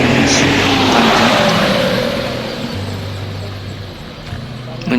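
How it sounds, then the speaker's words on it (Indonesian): An intercity bus arriving from Jakarta rolls into a bus terminal, its engine droning loud and close before easing off, with traffic noise around and a person talking over it. "sepertinya ini bus transport dari arah Jakarta yang masuk Panjang"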